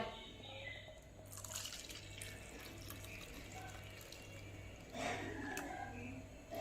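Boiled and cooled sweetened milk pours into a bowl for caramel pudding, a quiet continuous liquid stream with a louder splashy surge near the end.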